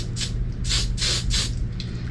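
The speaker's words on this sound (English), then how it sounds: "So I'm just using the trusty old Aqua Net" Several short hissing bursts of Aqua Net hairspray aimed at curled hair, about five sprays in quick succession, close and fairly loud over a low background hum.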